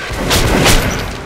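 Heavy blasts of a shotgun firing in the video game Metro: Last Light Redux, two loud booming shots close together within a second, filling the mix with no talk over them.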